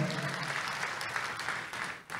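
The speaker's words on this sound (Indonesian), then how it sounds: "Boleh tepuk tangan sekali lagi buat Tuhan kita." A church congregation at a Sunday service breaks into steady, dense applause, a fairly soft, even wash of many hands clapping that dips briefly near the end.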